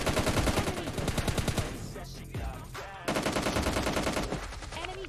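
Rapid automatic gunfire from the mobile shooter game PUBG Mobile Lite, dense repeated bursts running nearly throughout, with a brief lull in the middle before the firing resumes loudly.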